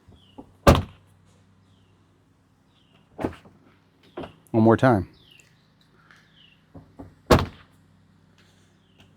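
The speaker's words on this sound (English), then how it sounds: "So let's see what the sound sounds like when we shut the door." A Tesla car door slams shut with a solid thunk, heard several times with pauses between, near and loud, while a person speaks briefly in between.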